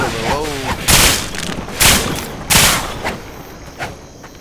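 A nail gun in the zombie game Ravaged fires in three or four heavy, spaced bangs, each loud and abrupt with a short decaying tail, after a brief voice at the start.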